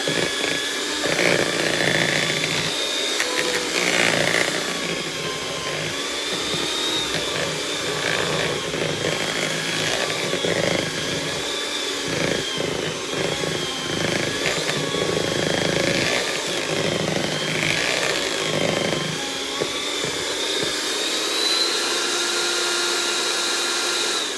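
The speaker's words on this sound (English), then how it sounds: "I do have a KitchenAid mixer." A KitchenAid stand mixer runs continuously with a loud, steady motor whine and hum, slightly wavering in pitch as it beats a cheesecake mixture.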